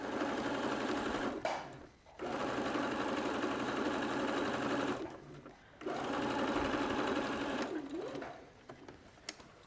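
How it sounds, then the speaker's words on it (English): A sewing machine runs fast in loud, continuous bursts of stitching, stopping briefly twice between long runs, close and steady with no talk over it. "Speed sewing."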